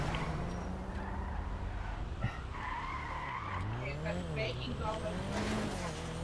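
A car driving in a racing video game, with a steady engine drone, tire skids and squeals, and pitch sweeping up and down as it steers, under occasional voices.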